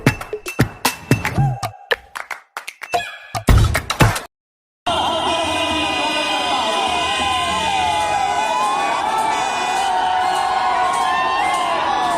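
A large crowd at a political rally in Jharkhand roars and cheers. Sharp bursts of noise come first, then after a short gap a dense, continuous din with wailing siren-like tones rising and falling through it.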